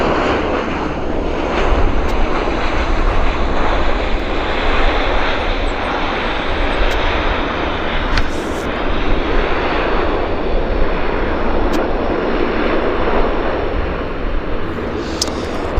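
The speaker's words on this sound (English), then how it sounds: "Oh, Q400 just landed." Q400 turboprop airliner landing at Vancouver airport, a loud continuous engine roar and broadband rush that stays steady throughout, heard from outdoors with no speech.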